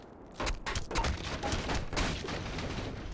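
Gunfire rings out in a quick series of sharp shots over a few seconds, moderately loud with some echo.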